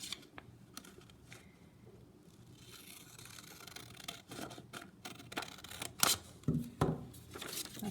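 Scissors snipping through paper for a Halloween mansion pop-up craft: quiet at first, then a series of close, crisp cuts and rustles building in loudness toward the end.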